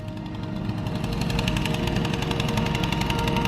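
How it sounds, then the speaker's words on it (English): A snow clearing machine runs nearby on the grounds of a monastery in Kyiv, Ukraine, giving off a steady, loud mechanical clatter with a rapid pounding rhythm that holds for the whole stretch. "some dude's just started up his snow clearing machine, I guess"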